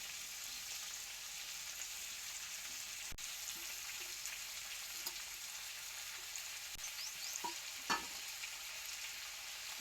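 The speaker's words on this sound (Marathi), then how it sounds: "आता हे कांदा तेलात चांगला खालवर करून घेतो. कांदा तेलात लय भाजायचा नाही, लालसर होतो." Chopped onion, finely cut tomatoes and green chillies fry in hot oil while being stirred, giving a steady close sizzle throughout, with occasional soft scrapes and clicks of the spoon and no talking.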